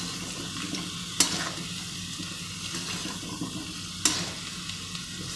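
Cubes of taro (arbi), browned to a dark brown, sizzle and fry steadily in a pan while being stirred and turned, with two sharp scrapes of the spoon against the pan standing out above the continuous hiss.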